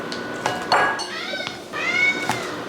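A house cat meows several times, drawn-out rising calls heard close by in a kitchen, with brief clinks of dishes and cutlery in between as a meal is prepared for the microwave.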